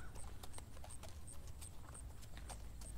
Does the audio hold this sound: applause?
no